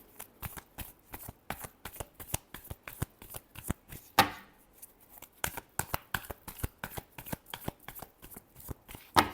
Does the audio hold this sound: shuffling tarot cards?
yes